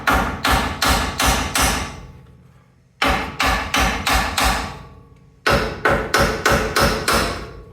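A hammer taps the upper control arm loose from the steering knuckle of a Toyota Tundra, three bursts of about five sharp metallic blows each, separated by short pauses with a ringing decay, loud and close.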